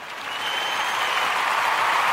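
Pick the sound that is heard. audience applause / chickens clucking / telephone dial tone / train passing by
audience applause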